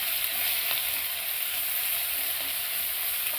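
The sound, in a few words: green chili paste sautéing in hot oil with cumin and curry leaves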